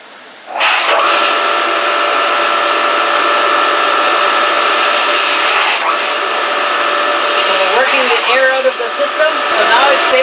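A Lapierre 1000 series reverse osmosis machine for maple sap starts up and runs with a loud, steady high-pitched whine and hiss, holding constant for the rest of the stretch with slight shifts in tone.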